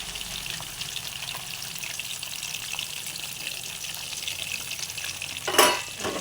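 Ground onion paste frying in a pan for an egg gravy, a steady faint sizzle throughout with a brief louder splash of stirring near the end.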